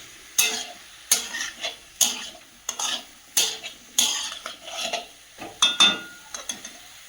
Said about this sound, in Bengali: তো তরকারিটা আমি অনেকক্ষণ ধরে কষাচ্ছি